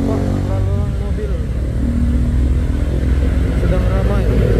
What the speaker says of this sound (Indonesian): Nampak lalu lalang mobil